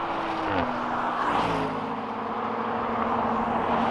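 An Audi RS4 at full throttle in a drag race, its engine note climbing steadily, then dropping sharply as it shifts gear and pulling hard again, loud and close throughout with a continuous roar.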